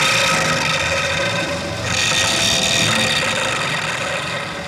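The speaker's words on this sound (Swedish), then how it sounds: "Vi får såga upp luckan." Sawing through a moon rocket's hatch as a radio drama sound effect: a loud, steady rasping saw drone running throughout, close and alone with no voices.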